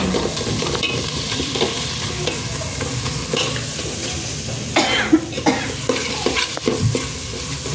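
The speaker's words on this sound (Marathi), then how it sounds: "आता हे आपल्याला छान असं हे मस्त परतून घ्यायचे मसाले" Spices are sautéed in oil in a pan for egg bhurji rice, with a continuous sizzle and repeated scraping stirs close by, plus a cough partway through.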